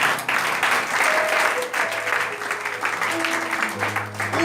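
A church congregation claps in sustained applause during a sermon. The clapping is dense and steady, with voices and a low musical drone mixing in underneath.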